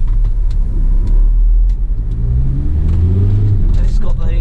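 A Ford Transit 350 medium-wheelbase high-roof van with a 100 bhp engine and five-speed gearbox pulls away in first gear, a loud steady low engine rumble with rising revs, heard from inside the cab.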